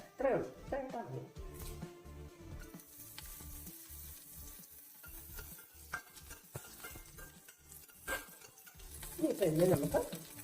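Two dried red chillies and curry leaves sizzle in hot oil for a dosa batter tempering, a light crackle and stirring scrapes under a voice talking, with a louder burst of frying toward the end.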